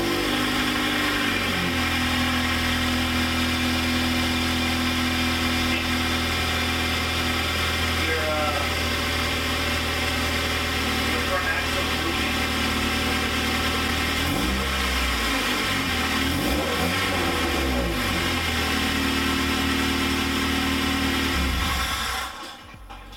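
An Acura RSX engine runs steadily at idle after an oil change, with a constant mid-pitched hum throughout and a few brief revs partway through before it cuts off near the end.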